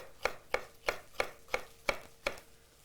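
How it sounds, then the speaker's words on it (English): A knife chops red peppers on a cutting board in steady, evenly spaced strokes, seven crisp, close knocks about a third of a second apart. "some red peppers over here. Let's chop some of this."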